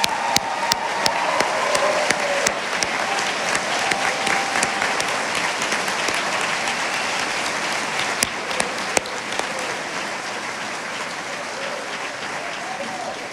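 An audience at the 2018 Frederica Academy commencement ceremony gives the new graduates sustained applause. Clapping from a large crowd stays steady and even, with occasional sharper claps standing out near the microphone.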